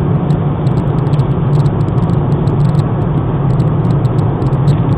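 A BMW X5 SUV cruising west on the I-90 highway near Seattle, a steady close interior drone of engine and road noise with faint ticking above it, no talking.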